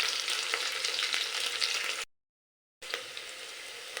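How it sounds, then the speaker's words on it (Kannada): Tempering sizzles in a pan before drumsticks go in, a steady bright hiss of frying that stops in a short gap of silence, then resumes just as loud. "ಒಗ್ಗರಣೆ ಸ್ವಲ್ಪ ಬೇಯಿಸ್ಕೊಂಡ್ಬಿಟ್ಟು ನುಗ್ಗೆಕಾಯಿ ಹಾಕೋತೀನಿ ಗೈಸ್ ಫಸ್ಟ್."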